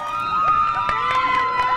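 A crowd cheers and shouts for Special Olympics athletes at an outdoor event, with children's voices and whistles mixed into a continuous, lively roar.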